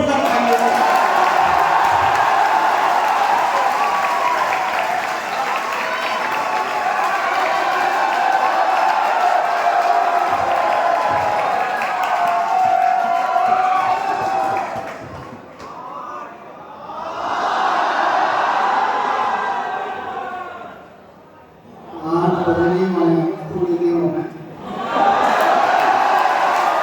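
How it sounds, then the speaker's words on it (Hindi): An audience at a Diwali celebration and medal ceremony applauds and cheers loudly and continuously, then the clapping fades, swells again in bursts, and breaks off with dips toward the end. "जोरदार तालियां"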